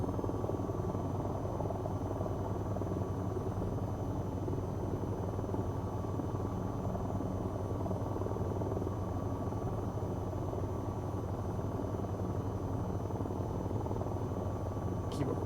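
An AH-94 helicopter in the flight simulation game VTOL VR gives a steady, continuous rotor and engine drone at even loudness throughout, with no speech in the cockpit.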